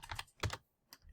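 Several quick bursts of clacking on a computer keyboard as a web address is typed in, close and clear, with a short pause before a final few keystrokes.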